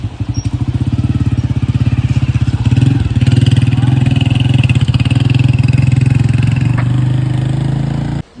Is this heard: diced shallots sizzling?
no